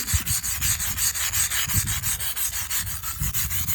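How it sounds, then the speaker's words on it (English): A wire brush scrubs across a crack in concrete in quick, even back-and-forth strokes, a rhythmic raspy scraping heard up close with no voices. "We're just going to go ahead and just softly wire brush it, getting the excess off"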